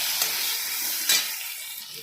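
Potatoes frying in a pan with salt and turmeric are stirred, giving a steady close sizzle with two brief scraping bursts from the spoon, and no voices.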